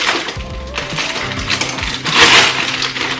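Frozen summer fruit mix berries tumble into a glass blender jug, a loud clattering, rattling pour of hard frozen pieces that builds and peaks near the end.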